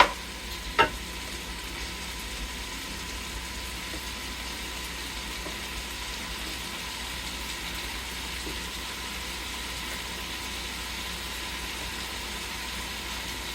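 Potatoes added to ground beef frying in a pan for a beef and potato hash; a single knock at the start gives way to a steady, even sizzle that stays close and unbroken.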